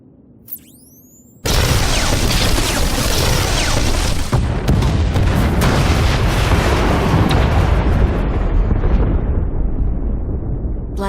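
Junctions blown up in a video game: a brief whooshing sweep and small pop, then a sudden massive explosion that roars loudly and rumbles on for seconds before slowly fading.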